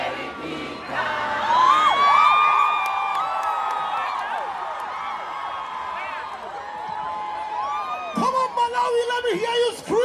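A concert crowd on a gospel world tour stop in Malawi screams and cheers loudly and continuously, with whoops and shouts rising and falling, and a fresh surge of yelling near the end.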